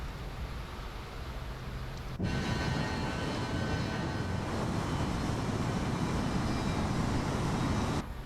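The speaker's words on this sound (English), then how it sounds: "Oh, there's the lightning and the rain." Heavy rain and rumbling thunder inside a Fokker F100 cockpit in a flight simulator, a sudden loud wash of broadband noise that starts after a quieter cabin hum, holds steady for several seconds, then drops away.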